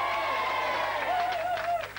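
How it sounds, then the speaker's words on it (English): Studio audience at a 1980 TISWAS children's TV taping clapping and cheering for a contestant, a dense sustained wash of applause with a voice and whistle-like tones over it. "Come on, give him a round of applause."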